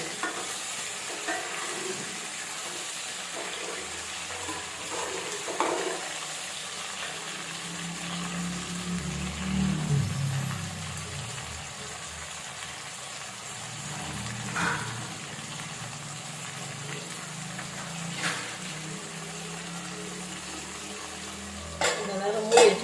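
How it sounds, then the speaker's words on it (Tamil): Brinjal pieces fry in oil for kathirikai karamani kuzhambu, giving a soft, steady sizzle with occasional stirring scrapes. A low hum sits underneath. "எண்ணெயிலே இந்த கத்திரிக்காய் நல்லா வதங்கட்டும்."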